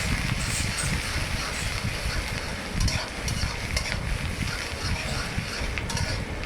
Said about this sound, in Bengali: তো পেঁয়াজ আর কাঁচামরিচটা ভেজে নিব ভালোভাবে।